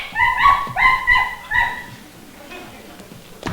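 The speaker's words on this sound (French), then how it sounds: "N'y entrez pas, il y a un chien." A dog behind a gate in a garden barks and yips several times in a quick run, fairly close and loud, then settles into faint whimpering and quiet.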